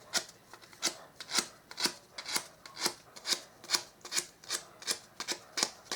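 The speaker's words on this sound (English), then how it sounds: "take some sandpaper and I'm just going to finish off the end of the handle" Sandpaper rubs the rounded end of a small wooden dowel handle, a steady run of about a dozen short rasping strokes in even rhythm, close and moderately loud with no talking.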